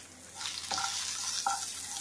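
Onions salted and sautéing in a pan for a chow chow chutney, a steady soft sizzle with a couple of brief stirring scrapes, close and alone.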